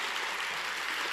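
A live audience at a literary event applauds, the broadband wash of many hands clapping steady and dense, filling the space without voices.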